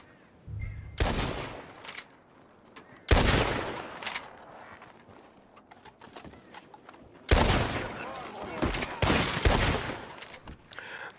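Rifle and repeater shots ring out in Red Dead Redemption 2 as a wave of men is fought off at a fort, loud sharp blasts in uneven clusters separated by quieter gaps.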